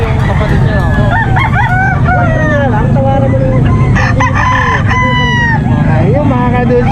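Several roosters crow again and again at a livestock market in San Carlos City, Pangasinan, loud and overlapping over a dense crowd murmur, with people talking throughout.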